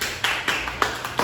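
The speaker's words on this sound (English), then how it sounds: "Give him a clap." A classroom of students gives a short round of clapping for a classmate, a few sparse, distinct claps spaced out over about a second, fairly close and light.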